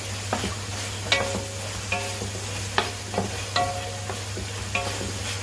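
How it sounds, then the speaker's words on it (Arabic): Pieces of Alexandrian-style liver sizzle in a pan with a steady frying hiss and a low hum, while periodic scrapes and clinks come up as they are stirred and flipped, close and moderately loud. "سيبهم كده كلهم ياخدوا لون، نقلبهم تاني كده اهي تاخد لون"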